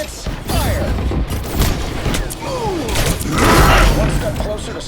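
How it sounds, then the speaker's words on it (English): Iron Man fires a volley of rockets in the Marvel Rivals video game, a dense run of whooshing launches and booming thuds, loud and continuous, with game voices and effects mixed in. "Rockets, fire!"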